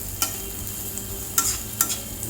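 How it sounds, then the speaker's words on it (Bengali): Veg paneer momos deep frying in hot oil, a steady bubbling sizzle close up, broken by a few sharp clinks and scrapes of a utensil, with no talking. "এটা যে তুমি খাবে সেটা ফ্রাই হচ্ছে।"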